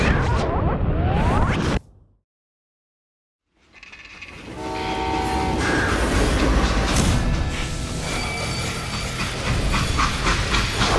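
A steam freight train in the Call of Juarez Gunslinger western game, loud rumbling and hissing wheels with a horn, cutting to a brief silence before the rolling train noise returns steadily.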